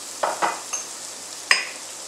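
Carrots softening in a pot, stirred with a few scraping strokes against the metal over a steady sizzle of frying, then a sharper clank near the end, fairly close and with no talking.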